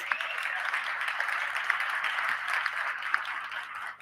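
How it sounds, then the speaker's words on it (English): An audience at a tourism and investment conference applauds its panelists and guest with sustained, even clapping from a large crowd that continues throughout. "let's give the panelists and our guest a very big round of applause"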